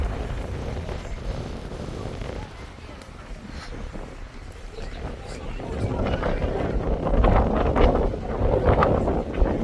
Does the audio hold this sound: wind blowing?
yes